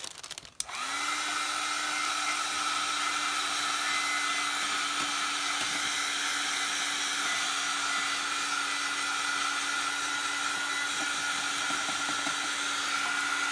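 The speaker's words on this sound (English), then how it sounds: "Let's hit it with the heat gun real fast." A heat gun blows steadily while drying a paper craft project, a loud continuous whooshing hum with a high whine that starts abruptly and runs alone without a break.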